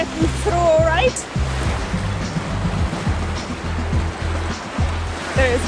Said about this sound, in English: We are approaching some serious rapids of the south tip of Hestur.